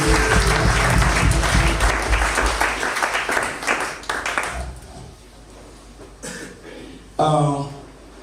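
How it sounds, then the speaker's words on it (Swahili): A church congregation at a Sunday service claps loudly together for several seconds, the applause fading out before a voice speaks briefly. "Tupigie Bwana makofi mazuri."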